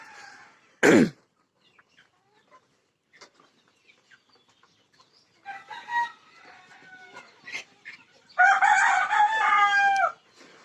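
A rooster gives a sharp crow, then quiet pauses with scattered clucks before laying hens break into loud, busy cackling near the end, on a chicken farm in Bangladesh.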